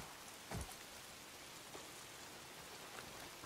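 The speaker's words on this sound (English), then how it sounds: "If it's not the freaks, it's the goddamn rain. Why is it always raining?" Rain falls steadily in the video game Days Gone as a continuous, even hiss of drops on surfaces, with one brief dull thump near the start and no speech.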